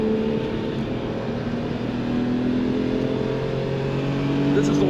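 Race car accelerating out of a turn at Autobahn Country Club circuit, a loud steady engine drone with rising tonal harmonics under a voice talking over it.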